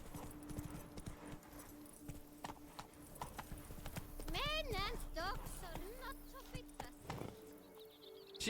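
Horse hooves clip-clop steadily through The Witcher 3 as the mount trots along, with someone talking over the hoofbeats and faint game ambience and bird calls behind.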